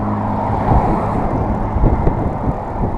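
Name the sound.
BMW K-Series touring motorcycle passing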